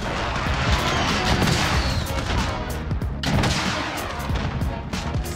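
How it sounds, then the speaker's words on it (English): Rockets and gunfire in Call of Duty Modern Warfare multiplayer form a dense, loud, continuous barrage of blasts and crashing impacts with no clear gaps throughout the few seconds. "I just keep shooting rockets, and there's always at least one person there."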